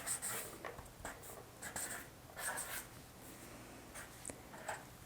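Pen or marker scratching out the words Be Mine on a Valentine's Day craft, a series of short close strokes with brief pauses, no talking.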